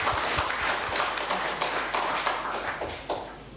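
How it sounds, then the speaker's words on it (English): A school audience gives a dense round of clapping, many hands close and steady for several seconds before it begins to thin out. "let's have a round of applause for him for all he's done."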